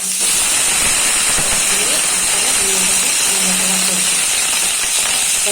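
Pointed gourd, beans, carrot and papaya fry in hot oil in a kadai for a fish soup, giving a loud, constant, close sizzling hiss with a few faint crackles.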